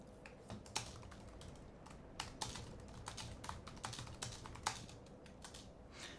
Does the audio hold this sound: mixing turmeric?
no